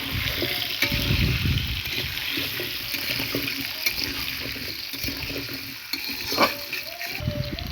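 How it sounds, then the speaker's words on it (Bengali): Taro being stirred with fried onions in a pan, a continuous dense sizzle broken by scraping and clattering strokes of the spoon throughout, close and fairly loud, with no talking. "দিয়ে দেবো আমরা কচু দিয়ে পেঁয়াজের সাথে ভালো করে নেড়ে চেড়ে নেব"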